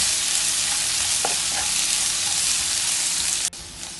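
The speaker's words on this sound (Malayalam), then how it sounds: "ഉള്ളി ഇങ്ങനെ ഇളം ബ്രൗൺ ആവുന്നത് വരെ നമുക്ക് ഫ്രൈ ചെയ്യണം" Onions, ginger, garlic and green chilli fry in a pan for a prawn chilli fry, a loud, steady close-up sizzle with a few light stirring knocks.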